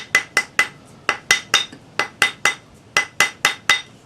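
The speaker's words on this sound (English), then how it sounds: "Now gently with your rawhide hammer," A rawhide hammer tapping a fine silver bezel on a bezel mandrel, about sixteen sharp, bright taps in quick uneven clusters, each with a short ringing decay, close and alone.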